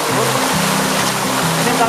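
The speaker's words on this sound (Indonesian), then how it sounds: "Ini sangat lebat teman-teman. Cukup lebat hujannya." Heavy rain pours down steadily on a beach, a constant dense roar that fills the scene, with a voice talking over it in bursts.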